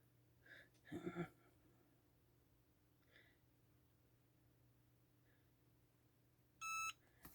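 After mostly quiet with a few faint knocks, a single sharp electronic beep from a Cricut EasyPress heat press sounds clearly near the end.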